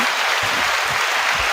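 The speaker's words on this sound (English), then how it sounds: "Give a hand clap, cool." Dense hand-clapping applause from a small audience at a live talk show, a steady continuous patter of claps filling the whole moment without voices.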